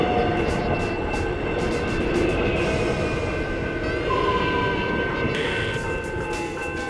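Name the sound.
train passing by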